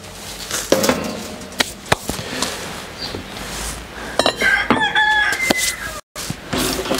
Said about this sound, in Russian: Ни один петух не пострадал, поет с утра.